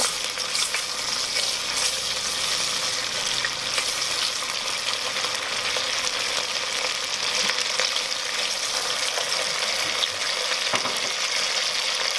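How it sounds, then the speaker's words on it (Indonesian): A ground spice paste sautés in hot oil, a bright, steady frying crackle with soft stirring scrapes, close and fairly quiet, with no voices. "Panaskan minyak untuk menumis. Tumis bumbu halus."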